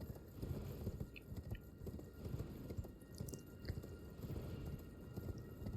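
Horse hooves sound while riding in the video game Elden Ring: a steady, continuous galloping clip-clop at moderate volume, heard alone without speech.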